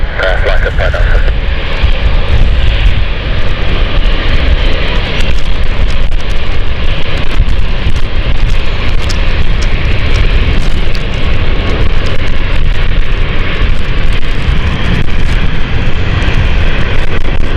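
An airliner climbing out from London City Airport gives off a loud, continuous engine roar that holds steady, while a voice talks over it.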